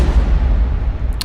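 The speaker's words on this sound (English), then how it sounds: "with the hit of the reverb tail that I'm using" A cinematic impact hit drenched in a Valhalla reverb for horror music, a deep booming low end washing into a long dense tail, with a brief brighter flick near the very end, loud and alone.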